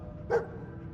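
A single short bark from the dog Dogmeat in Fallout 4, one clear mid-pitched woof standing out briefly over a quiet, steady background.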